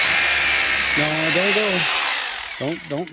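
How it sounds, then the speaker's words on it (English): A steady high whirring power drill cleaning dust out of a drilled hole during a deck and stair build runs throughout while someone talks over it in short phrases. "use your drill and clean out the hole"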